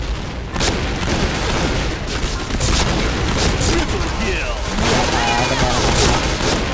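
Rapid bursts of bomb explosions and gunfire from an online shooter game's deathmatch mode, loud and continuous across the stretch with heavy low-end booms and crackle, while a player talks over it.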